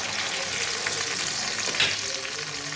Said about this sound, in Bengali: লঙ্কাটা একটু ভালো করে ভাজা হলে ঝালটা ছাড়বে